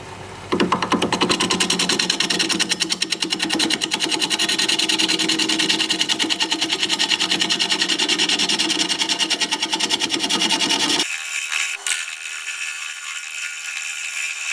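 A bench grinder whirs steadily as a wood turning tool is sharpened against the wheel, a continuous gritty whine for about eleven seconds before it cuts off abruptly, leaving quiet hiss.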